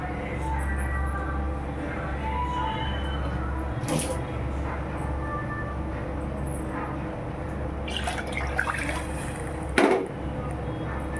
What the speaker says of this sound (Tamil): இன்னொரு கப்பு தண்ணி ஊற்றலாம்